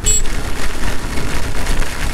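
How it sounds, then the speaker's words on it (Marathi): Heavy monsoon rain pours during a motorcycle ride through the ghat section past Khopoli toward Lonavala, a dense continuous hiss close to the microphone that never lets up. "इतका जोरात पाऊस आहे"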